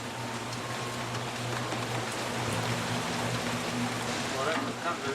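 Heavy rain pours onto a river boat in a steady, dense hiss, with a low engine drone humming underneath throughout.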